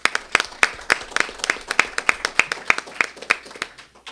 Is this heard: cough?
no